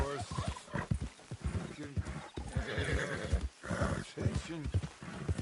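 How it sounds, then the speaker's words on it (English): A horse whinnies and snorts close by, its calls mixed with rough breathy sounds and a busy background. "drunk horse."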